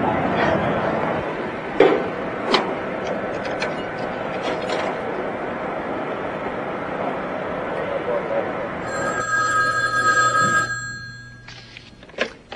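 An office telephone rings in a run of bell tones late in the sequence, coming after steady background talk and a few clicks, with people speaking around it.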